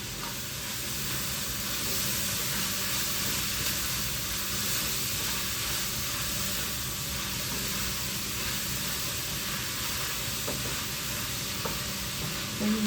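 Onions sautéing in a pan, a steady close hiss and sizzle of frying that continues evenly throughout, with a few faint clinks of stirring and no talking.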